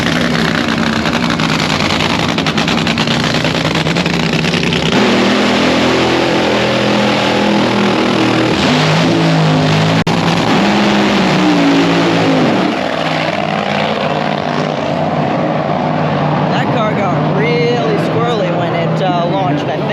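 Funny car drag racers at the 2023 Midwest Nationals in St. Louis roar loudly nearby, engines revving and blasting down the track in a continuous, overwhelming din, with a voice talking faintly underneath.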